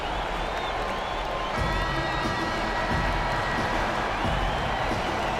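A Houston Rockets home crowd roars in an NBA 2K19 basketball game against the Oklahoma City Thunder, a steady, dense arena din of cheering and clapping that swells slightly partway through.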